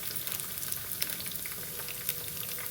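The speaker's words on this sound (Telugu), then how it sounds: "ఇవన్నీ వేగేటట్టుగా జాలి గరిటెతో అలా కలిపి తిప్పుకోవాలి" Mushrooms fry in hot oil for crispy mushroom 65 while a slotted ladle stirs them, giving a steady close sizzle with light scraping clinks scattered through.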